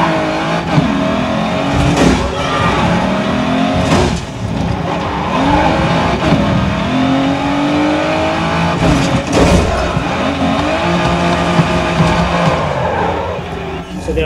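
A car crash in the GRID 2 racing game plays out over a roaring engine, with repeated impact bursts, screeching tires and revving, loud and dense throughout, with no talking.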